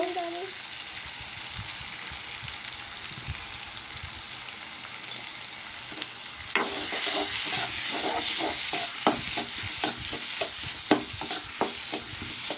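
Onion and Sidol dry fish with turmeric fry for a chutney, quiet at first, then a louder continuous sizzle sets in midway with repeated scraping stir strokes of a spatula against the pan.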